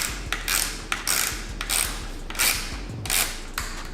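Bursts of ratchet-wrench clicking while bolts are tightened on a Toyota Tacoma TRD Pro, short rapid clicking runs of about half a second each, repeated with brief gaps, fairly close.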